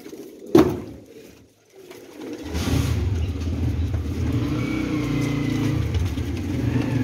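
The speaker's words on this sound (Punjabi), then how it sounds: "ਗੋਲਡਨ ਕਬੂਤਰ" Golden pigeons coo in a low, continuous rumble after a sharp knock and a brief quiet, with a faint background hum.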